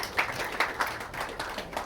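An audience claps to welcome guests at a Burundi event with artists The Ben, Big Fizzo and Lino G, giving moderately faint, uneven applause that keeps up throughout with no one speaking over it.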